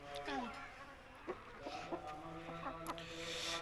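Desi hens and a rooster cluck and chatter in short, irregular bursts at close range in a rooftop coop, with a steady buzz of insects or farmyard noise in the background.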